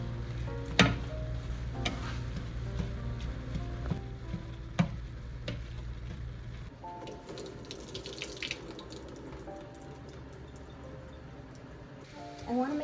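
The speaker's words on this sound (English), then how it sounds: "This hamburger is starting to cook right up" Hamburger meat sizzling and frying in a pan, a steady crackle with occasional scraping stirs and clinks, fairly close, with brief faint speech.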